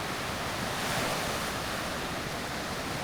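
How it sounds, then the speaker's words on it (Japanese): Ocean waves wash steadily onto a beach at Aneko-no-hama near Karatsu, Saga, Japan, a constant broad rushing surf with faint wind, no voices. "波の音に癒されました"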